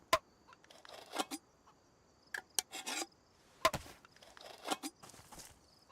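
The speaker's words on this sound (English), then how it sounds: "this handsaw can open up my beans" Handsaw scraping and rasping open a can of beans in the DayZ video game, a series of short sawing and tearing strokes in uneven clusters, close and quiet, no talk.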